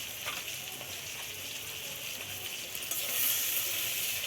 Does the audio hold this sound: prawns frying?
yes